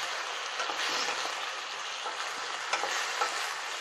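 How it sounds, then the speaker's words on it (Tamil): Cluster beans and cauliflower with salt sauté in a pan, making a continuous close sizzle with faint stirring scrapes and a few soft clicks. No one speaks. "உப்பு சேர்த்து கொஞ்சம் வதக்கிக்கணும் காய்கறியை"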